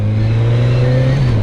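Suzuki GSX-S 1000F motorcycle engine idling close by with a sticky throttle, holding a steady low hum that rises slightly in a brief self-blip near the end before settling.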